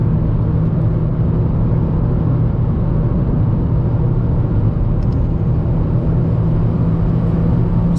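A Toyota Yaris T Sport engine drones loudly and continuously during a Toyota-only track day at Mallory Park, a steady in-car roar with wind and road rumble and no let-up.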